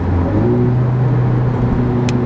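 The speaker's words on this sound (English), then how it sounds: "That's 4th gear, and I'm gonna downshift back to 3rd." A 2020-2021 Honda Civic Type R engine hums steadily at low revs during a downshift from fourth to third gear, holding a constant drone with a slight shift in pitch partway through.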